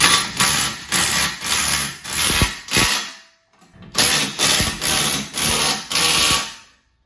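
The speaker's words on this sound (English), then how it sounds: "we will tighten it with my impact driver, because by the way, this 40 volt, this is a new impact driver by Makita" A Makita 40-volt impact driver tightens bolts on a fitness rack in two close bursts of rhythmic hammering, each of about a half dozen pulsing impacts, with a brief pause between them.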